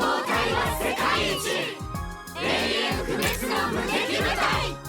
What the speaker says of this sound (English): let's do a motivational cheer to celebrate